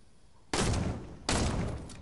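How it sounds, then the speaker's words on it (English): Two loud, dense bursts of video game gunfire cut in one after the other, each a sustained rattling blast with no talk over it. "why are you shooting? I can see you shooting."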